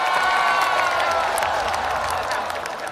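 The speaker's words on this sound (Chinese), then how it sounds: "好， 掌声！" A studio audience at a comedy talk show breaks into applause, a dense, loud wash of clapping with some crowd noise that tapers slightly toward the end.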